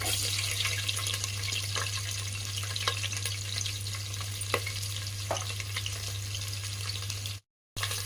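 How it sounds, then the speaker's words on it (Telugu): Onions frying in a pan for coconut milk soya pulao, a steady sizzle with soft crackle and occasional stirring taps over a constant low hum, ending with a brief dropout. "ఉల్లిపాయ వేసుకొని మంచిగా ఫ్రై అయ్యేటట్టు రెడ్ కలర్గా ఫ్రై కావాలండి"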